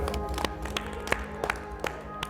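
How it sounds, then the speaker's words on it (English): A few children clap for a classmate, sparse and uneven, with distinct separate claps spaced apart rather than a full crowd roar, close by and fairly loud. "Give Natalia a round of applause."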